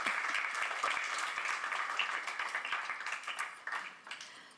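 An audience at a spiritual talk on karma yoga claps steadily for several seconds, a dense patter of many hands that gradually thins and fades toward the end.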